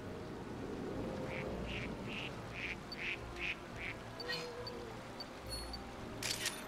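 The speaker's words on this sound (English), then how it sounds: "Look at the ducks." Ducks in New Pokémon Snap give a run of repeated, evenly spaced quacks at moderate loudness over a steady ambient game background, followed by a few brighter chirps and clicks.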